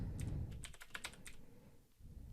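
Quick burst of keystrokes on a computer keyboard, close and crisp, with irregular clicks and no speech.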